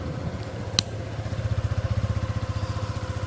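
A 2026 Suzuki Burgman scooter engine starts with a brief click and then settles into a smooth, steady idle. The engine putters close by in a fast even pulse at moderate loudness, with no one talking over it.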